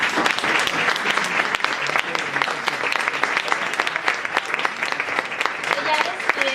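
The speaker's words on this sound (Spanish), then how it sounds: "Un aplauso para Begoña." A room full of people clapping steadily, dense applause that holds at a constant level throughout.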